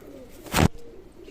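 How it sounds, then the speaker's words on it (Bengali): Golden pigeons of a Pakistani teddy-type breed at a pigeon loft give one short, close, fairly loud coo-like burst with a faint low hum around it. "আলমারিওয়ালা গোল্ডেন কবুতর"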